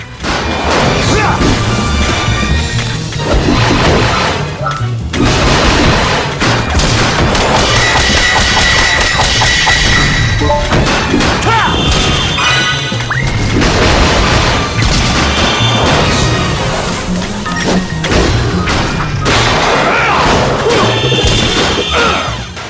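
Nonstop combat from the Sonic Unleashed video game, with the Werehog's aerial attacks striking enemies: loud smashes, thwacks and crashing impacts piling up over game music and effects.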